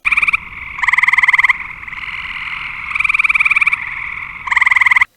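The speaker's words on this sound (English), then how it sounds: "So again, here's the eastern gray tree frog." An eastern gray tree frog calls up close and loud, giving a series of rhythmic, pulsing musical trills that rise and fall in strength with no other sounds around.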